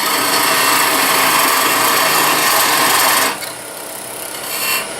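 A woodturning tool cuts a tenon on the end of a wooden pencil cup turned on a lathe, giving a loud, steady scraping hiss for about three seconds that then drops to a quieter whir of the spinning lathe.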